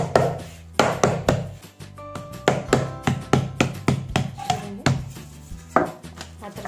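Sajja (pearl millet) roti dough being patted flat with the fingers, a steady series of sharp, close slapping taps in an uneven rhythm, heard alone.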